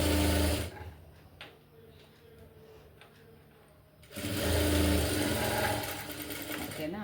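A sewing machine stitching blouse lining runs in a steady whirring drone, pauses for a few seconds of quieter handling, then starts again loudly, heard up close.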